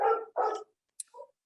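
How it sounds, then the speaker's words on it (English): Pet dogs bark at home: two loud, close barks in quick succession, then a brief pause and a short, softer yip, with no speech over them. "and I apologize for my dogs"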